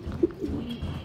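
A male racing pigeon coos once up close, a short soft throaty burst followed by quieter low murmuring, with no one talking.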